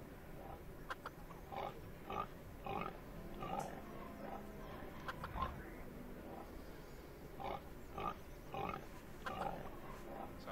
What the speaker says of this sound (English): So Arthur, what exactly are these pigs doing here?